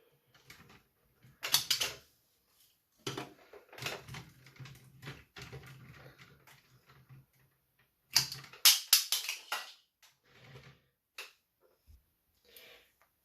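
Clicking and snapping from the firing feature of a Power Rangers In Space Astro Delta Megazord toy, with buttons pressed in short clustered bursts of sharp plastic clacks separated by quiet gaps.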